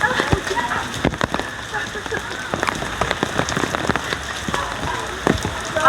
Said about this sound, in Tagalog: Naulan doon sa labas.